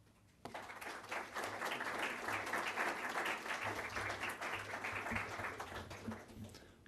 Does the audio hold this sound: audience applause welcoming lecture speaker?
yes